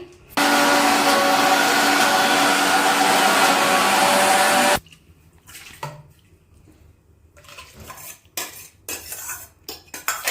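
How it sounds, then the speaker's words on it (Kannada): A kitchen mixer grinder grinds soaked ingredients for uppsaaru, a loud steady whir running for several seconds and then cutting off abruptly, followed by quieter scattered clatter and handling noises. "ರುಬ್ಕೊಂಬಾರೋಣ ಇದು ಮಿಕ್ಸಿಗೆ ಹಾಕಿ"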